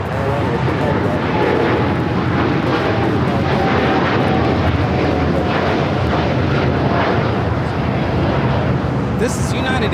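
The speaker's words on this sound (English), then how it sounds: "This is United Airlines Flight 198 taking off to Shanghai on the 787-9 Dreamliner." A United Airlines Boeing 787-9 Dreamliner takes off at LAX with a loud, continuous jet engine roar. The roar holds steady and close throughout, and faint voices are partly buried underneath it.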